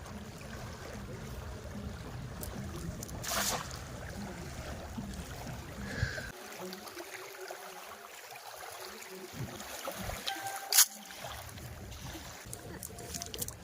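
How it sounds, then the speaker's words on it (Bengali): A boat on a Sundarbans river during shrimp fishing gives a low, distant rumble for several seconds, then fades, leaving faint open-air river ambience with a few soft knocks. "ওই যে সে বোটটা কোনটা মানে বোট শব্দ করছে"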